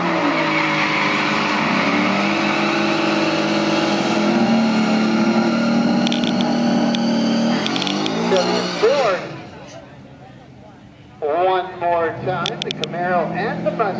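A Camaro SS races a Mustang GT on a track, engines roaring hard and steady before the sound cuts off briefly, then comes back with a rising, wavering engine note; someone talks excitedly over it.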